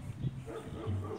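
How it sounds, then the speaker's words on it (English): Faint dog barks in the distance at a pet boarding facility on Oahu, a couple of low woofs under quiet ambient noise. "hear those other dogs barking, Nickie?"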